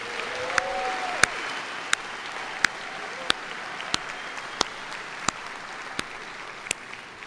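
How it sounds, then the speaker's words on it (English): Commencement crowd gives the graduates a warm, sustained round of applause, a soft steady patter of many hands with a few sharp nearby claps standing out at regular intervals. "A warm round of applause again for our graduates."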